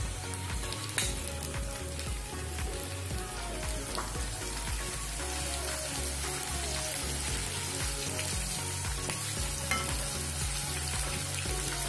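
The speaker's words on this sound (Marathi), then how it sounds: "आता ह्यामध्ये ना थोडे थोडे आपण बोंबील घालायचे आणि फ्राय करून घ्यायचे।" Dried bombil (Bombay duck) fish fries in hot oil, giving a dense, steady sizzle with crackling spatter that holds loud and close throughout, with no talking.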